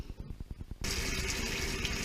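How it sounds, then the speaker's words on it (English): Warm water runs from a tap into a utility sink, starting abruptly partway through as a steady, close, full-bodied rush that fills the rest of the clip. "So I'm filling the sink, my utility sink, with warm water."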